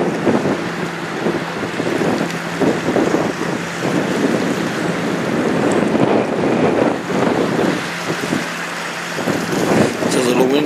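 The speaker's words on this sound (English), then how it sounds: "It's a little windy out today" Wind buffets the microphone throughout, a steady loud roar with gusty swells, over a low background hum, on the St. Clair River in the Great Lakes, where a 1,004-foot freighter is passing.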